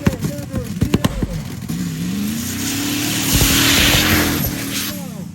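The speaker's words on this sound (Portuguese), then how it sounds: "Vem estourando o Kevin Gato, acelerando tudo." An off-road jeep races at full throttle at a Jeep Cross 4x4 event in the mountains, its engine revving hard in a rising, sustained roar after sharp opening bursts, loud and close, with a commentator speaking over it.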